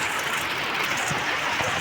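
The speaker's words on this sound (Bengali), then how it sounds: "এই দেখো কেমন বৃষ্টি হচ্ছে দেখতে পেয়েছো একদম ছাদে জল জমে গেছে" Heavy rain falls on a rooftop terrace where water has pooled, a steady dense hiss filling the whole stretch without any speech.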